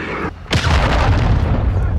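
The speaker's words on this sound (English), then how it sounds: "Hostile cruise missile incoming." An incoming cruise missile explodes during a Hardpoint match at El Asilo in Call of Duty: Modern Warfare II: a sudden loud boom after a brief lull, then a sustained heavy rumble under a faint voice.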